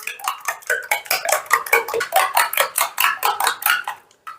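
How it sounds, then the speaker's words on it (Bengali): Eggs are beaten in a bowl with a fast, even run of metallic clinks and taps that stops abruptly, with no voices over it. "দেখো, ডিমটাকে আমি বেশ ভালো করে ফেটিয়ে নিয়েছি।"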